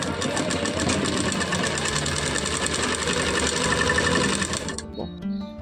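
A sewing machine stitches a decorated fabric piece for a blouse latkan, running in a steady, close, rapid whir for nearly five seconds before stopping with a few faint clicks.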